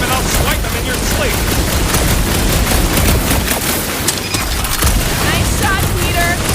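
Peter's guns firing in Marvel's Guardians of the Galaxy video game: loud, dense, continuous bursts of rapid shots and booms blending into an unbroken barrage amid other game noise.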